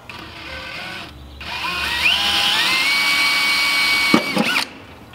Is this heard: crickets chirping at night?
no